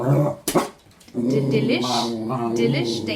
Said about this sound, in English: There's a noise. That's Benny, my dog.